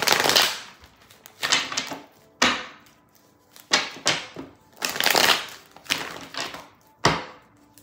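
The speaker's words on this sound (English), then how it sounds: "Let me just shuffle these decks really quick." Several quick bursts of tarot cards being riffled and shuffled close by, crisp papery rattles separated by short pauses, with no talking.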